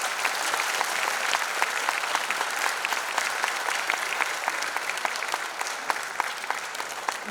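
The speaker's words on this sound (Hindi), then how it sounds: "आपकी तालियां रुकनी नहीं चाहिए।" A crowd claps continuously at an annual community celebration held by the Kalyan Ashram family, greeting a woman called to the stage. The dense, even applause holds steady for several seconds, with no voices above it.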